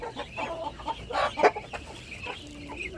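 Native chickens cluck and murmur nearby in short, soft, irregular calls, with a slightly louder cluck in the middle.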